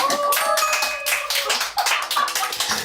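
A studio audience at a variety show breaks into a short burst of clapping, dense and fairly loud for about three seconds, with a few sustained tones fading out underneath.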